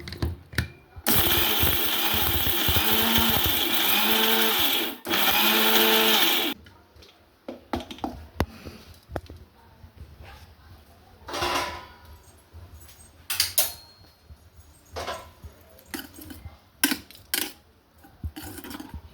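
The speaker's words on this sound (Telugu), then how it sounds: "ఇప్పుడు ఇది మెత్తగా మిక్సీ పట్టేసుకుందాం." A mixer grinder whirs loudly for several seconds with a brief pause, then stops, followed by scattered knocks and rattling of the jar.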